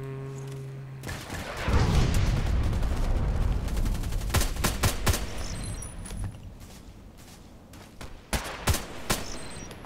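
Rapid bursts of HK 417D assault rifle fire in a shooter video game, sharp repeated cracks over a rumbling battlefield bed, loud and close, with a few isolated later shots.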